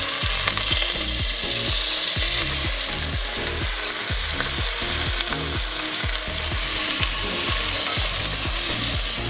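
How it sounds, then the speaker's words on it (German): Rabbit pieces searing in a pan, a loud continuous sizzle and crackle of frying meat with a regular scraping, stirring rhythm running through it, close and with no voices. "Als nächstes werden die Häsli-Stücke angebraten."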